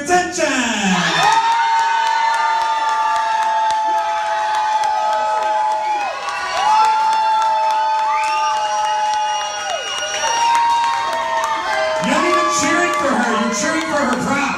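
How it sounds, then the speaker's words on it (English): A crowd at a drag class show-and-tell night cheers loudly and continuously, with high whoops and shouts layered over the din and a few voices calling out near the end. "Cheering for her prop."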